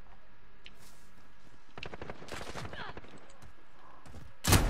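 Sniper rifle gunfire in a multiplayer shooter video game, a few sharp shots and a burst of rapid cracks, ending in one loud close blast, with faint talk in the background.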